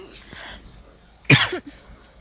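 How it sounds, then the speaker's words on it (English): A cough bursts out loudly near the mic, a single harsh fit of about a third of a second with a rougher tail, after a faint murmur. Game sound hums quietly in the background of a Minecraft session. "pardon the coughs, guys"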